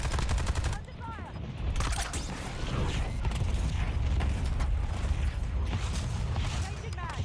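Gunfire in the video game Warzone, a continuous loud barrage of rapid shots and bursts with mechanical clatter, sustained throughout without letting up.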